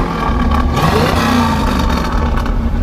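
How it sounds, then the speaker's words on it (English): A 1968 Pontiac Firebird 400 convertible with a four-speed runs loud and close, its V8 revving with a deep, steady roar and rising engine tones that fill the whole stretch. "We'll rev it up here for you."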